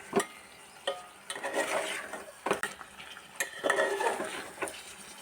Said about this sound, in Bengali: দেখুন ওটা দিয়ে ভালো করে কষে নিচ্ছি।